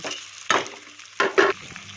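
Rice, potatoes and spices are stirred in a frying pan, a few short scraping strokes of a spoon over a soft sizzle, close and quiet.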